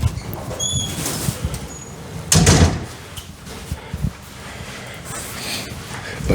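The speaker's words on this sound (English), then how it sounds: "I opened that door a little too abruptly." A door in a guesthouse lodging in Naples is pushed open abruptly, giving one loud scraping, rattling burst midway through, amid room noise, small clatters and a person speaking.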